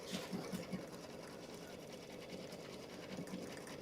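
An embroidery sewing machine stitches a buttonhole, its needle pattering in quick rhythmic bursts that pause and resume at a steady, close volume, with a faint voice in the background.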